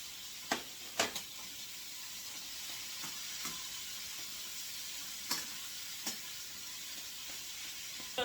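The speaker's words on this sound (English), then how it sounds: "I'm going to be cooking this until everything is brown and no more pink." Ground beef fries in a pot for lasagna, giving a steady soft sizzle broken by several sharp spoon scrapes and knocks at irregular intervals.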